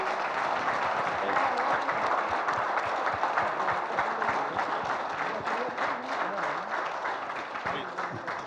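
An audience at a film pre-release event stands and applauds, giving dense, sustained clapping that carries on throughout and fades slightly toward the end, with some voices mixed in.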